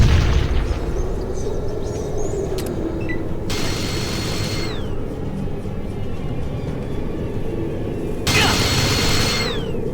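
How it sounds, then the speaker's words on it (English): A grenade launcher blast from the turn-based game Fallout Tactics, heard as loud booming bursts over dense battle noise, with a sharp rise near the start and another around eight seconds, while a voice talks over it. "Grenade launcher!"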